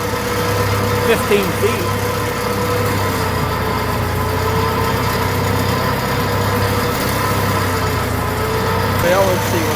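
A Farmall 400 tractor fitted with an IH 2000 loader and a Hydra-Touch hydraulic system idles nearby with a steady low rumble, while someone talks over it throughout.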